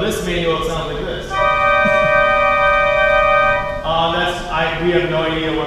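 Pipe organ manual playing a three-note chord that sounds wrong, with extra unwanted notes opening up into steady sustained tones over a breathy wind hiss, fairly loud and close, framed by brief talk before and after.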